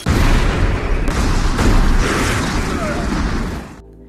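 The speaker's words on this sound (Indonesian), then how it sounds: "The Killer bisa menghindar lalu segera meledakkan rumah si target" A house blown up in a thriller film: a loud, sustained roaring blast with rumbling debris and crackle that fills the whole stretch, then drops off to a quieter tail near the end.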